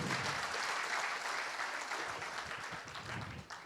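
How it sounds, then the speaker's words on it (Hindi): Audience at a large open-air poetry gathering (kavi sammelan) breaks into sustained applause, a dense wash of many hands clapping steadily, loud and continuous before easing slightly at the end. "ताली बजाओ तो जोर से बजाओ"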